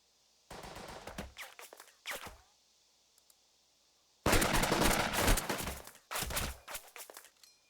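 Bursts of automatic machine-gun fire from a WWII infantry battle in the video game Burden of Command, coming in several loud, rapid volleys separated by short pauses, with a long sustained burst midway and no talking.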